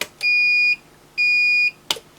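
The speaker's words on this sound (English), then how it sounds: "The maintenance alarm still comes up." Maintenance alarm on an Akatherm CB315-U electrofusion unit beeps loudly in two long, steady electronic tones of about half a second each, separated by a short gap, then a brief click, close and alone.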